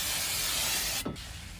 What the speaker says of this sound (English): So we're going to hit it with some brake cleaner right now.